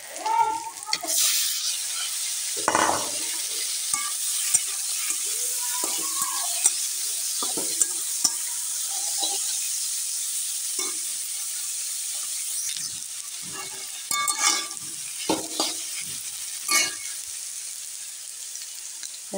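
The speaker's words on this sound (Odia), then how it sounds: "ଏଠି ଏବେ କଲରା ଆଳୁ ଭାଜିବି, ସେଥିପାଇଁ ତେଲ ଦେଇଦେଲି" Bitter gourd and potato fry in oil with mustard seeds, a soft hiss broken by scattered stirring scrapes and sharp pops, intermittent and fairly close.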